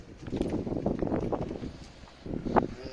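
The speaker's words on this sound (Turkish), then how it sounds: "Çok rüzgar var ha." Gusty wind buffets the microphone in low rumbling bursts at a pigeon loft, with a stronger gust near the end; no clear talk.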